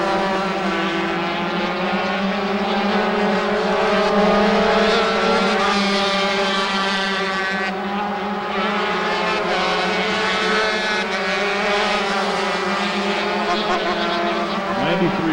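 Race cars, including small 80cc machines, circle a dirt oval at Silver State Raceway, a loud, steady multi-engine drone with layered whining pitches, under continuous commentary from an announcer.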